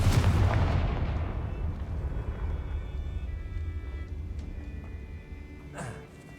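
A Confringo fire spell cast in the Hogwarts Legacy video game, a loud booming blast that rolls off into a long rumbling decay with a brief swish near the end.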